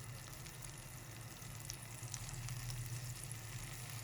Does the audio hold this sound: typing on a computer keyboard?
no